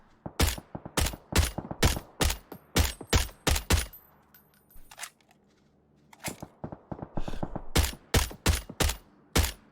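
Rifle shots ring out in a PUBG match, a string of sharp, evenly spaced single cracks, a quieter pause, then another series of loud shots fired at distant targets.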